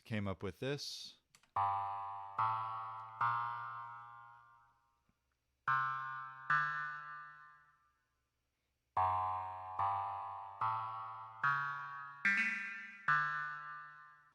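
Sampled synth loop with a clavichord-like plucked tone built in Logic, repeating chords that each decay, heard after a brief spoken line and a short click at the start.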